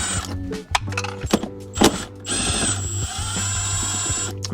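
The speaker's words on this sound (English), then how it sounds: "we're gonna speed this up a little bit with some power tools" A power tool, likely an electric drill or driver, drives out 8 mm bolts during a hybrid short shifter install, giving a few short whirring bursts followed by a longer sustained run, close and fairly loud over a gearlike mechanical background.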